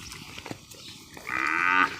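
A buffalo calf gives a single drawn-out moo near a village pond, loud and close after a few soft shuffling sounds, with no talking.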